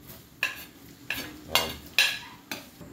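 Garlic stirred and sautéed in a pot while cooking a large batch of sopas, a Filipino soup, giving a handful of spaced scraping strokes with a faint sizzle between them, close and fairly quiet with no talking.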